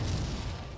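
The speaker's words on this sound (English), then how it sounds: "Bro pulled out the RPG." A Roblox War Tycoon RPG shot booms out as a short, dull low-end blast that fades over the rest of the moment, fairly muffled and with no voices over it.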